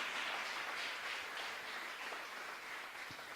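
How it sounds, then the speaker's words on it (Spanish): A congregation applauds at a Spanish-language church service, a faint, steady wash of clapping that fills the whole stretch without a break. "Dele un aplauso fuerte al Dios Todopoderoso."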